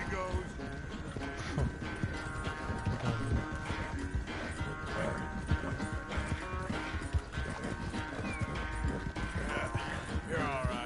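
In Red Dead Redemption 2, a horse's hooves clip-clop in a continuous rhythmic gait with occasional whinnies, heard moderately loud under game music and a voice talking over it.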